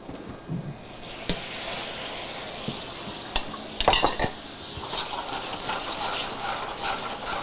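Ravioli being moved into a pan of olive oil, butter and lemon juice sauce: a steady sizzle and frying hiss with sharp metal clinks of a utensil on the pan, a brief cluster of knocks midway, and no speech.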